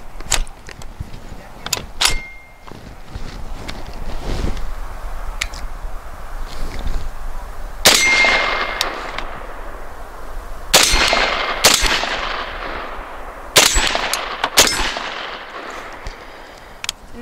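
A semi-automatic shotgun fires Remington Gun Club light target loads outdoors, several loud sharp blasts spread irregularly across the stretch with mechanical clatter between shots.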